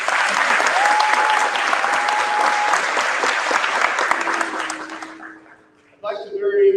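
A crowd at a Chicago agricultural sciences high school commencement claps in sustained, dense applause that fades after about five seconds, and then a voice begins speaking.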